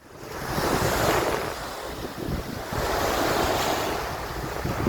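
Surf washing onto a sandy beach below a dune, heard as a steady, fairly loud broadband rush with gentle swells in intensity, mixed with wind buffeting the microphone and no voices.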